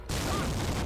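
A tank cannon fires at a T-34 in the video game Steel Fury, one loud, dense blast that fills the short moment and rumbles on without fading, with no talking over it.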